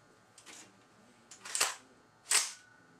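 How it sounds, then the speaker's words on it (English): A semi-auto rifle being charged and three rounds ejected: a few sharp metallic clacks of the action, two louder ones standing out, close and crisp against a quiet background. "I'm going to go ahead and charge it and eject the three rounds"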